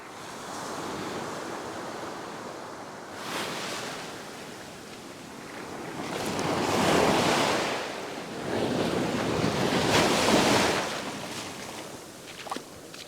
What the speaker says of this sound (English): See, there's a little wave coming here now, but that's actually not going to break.